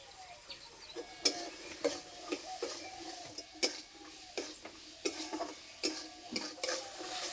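Green peas sautéed with spices in a pan, stirred with a run of light scraping and tapping strokes over a faint sizzle, close but quiet, with no talking.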